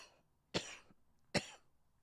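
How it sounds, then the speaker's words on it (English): Two sharp coughs from one person, evenly spaced about a second apart, close and fairly quiet in an otherwise still room. "this is where I cough on the podcast"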